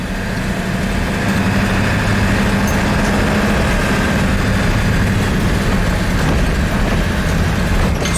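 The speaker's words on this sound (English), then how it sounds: "So the van is running" Ford E350 van with a 7.3L diesel engine running, a steady loud low rumble and drone that stays close and constant throughout with no talking.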